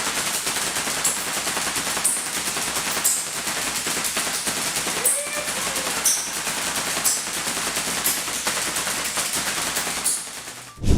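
A homemade Tesla cannon built in a garage fires rapidly, a dense continuous rattle of shots punctuated by sharper cracks roughly once per second, loud and close throughout before stopping abruptly.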